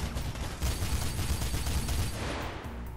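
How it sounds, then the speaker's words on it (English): Automatic gunfire in the video game Mirror's Edge, a sustained dense burst of rapid shots lasting about three seconds before tapering off, loud and alone with no talking. "Gonna get that machine gun, kick some ass with it"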